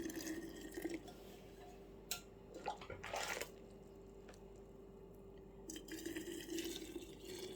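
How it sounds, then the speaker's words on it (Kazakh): Boiling water poured over orange, lime and lemon slices with sugar and mint in a jar, making a mojito: intermittent close splashing and gurgling bursts separated by quieter stretches of soft dripping. "Енді осының үстіне қайнап тұрған суымызды құямыз."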